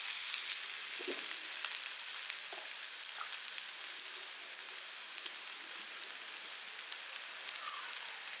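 Flattened dough cooking in an oiled pan over low heat gives a constant, even sizzle with a few faint pops, steady throughout and without speech.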